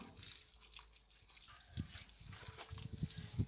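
Water splashes and trickles onto fruit bushes in a garden, soft irregular pattering with a few heavier splashes toward the end, fairly faint and close.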